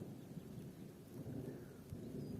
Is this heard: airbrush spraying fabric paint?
no